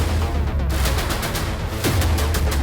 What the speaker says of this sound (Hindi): पैदल चल रहा बदमाश पहली गोली चला